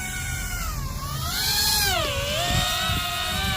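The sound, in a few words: RC hoverbike drone motors during auto takeoff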